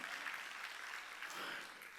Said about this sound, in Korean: 박수로 하나님께 영광 돌렸어